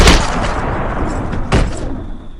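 Loud film gunshots as Flynn shoots a policeman, a sharp opening blast followed by a second heavy report about a second and a half later, each trailing off into a muffled rumble.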